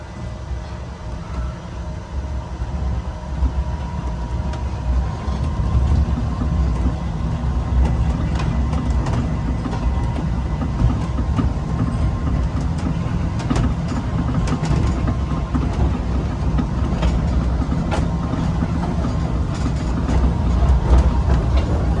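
A train truck, refitted with an AC traction motor, rolls along rails with a steady, continuous rumble and clatter. It is close and evenly loud for the whole stretch, with no talking.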